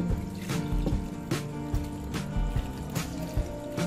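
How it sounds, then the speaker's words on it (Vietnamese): Water is poured into a blender jar holding pandan leaves, 300 ml in all, for a pandan coconut-milk dessert. The pour is close and steady, with a few splashy bursts and no talk. "các bạn cho nước mình đã chuẩn bị sẵn là 300ml nhá"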